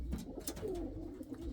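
Indian fantail pigeons coo nearby in soft, low, throaty calls, with some rustling around them and no talking.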